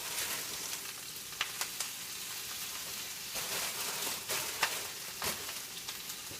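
Kale and spinach cooking down in a hot pan, a steady crackling sizzle with scattered pops and the occasional scrape of a spatula, close and even throughout.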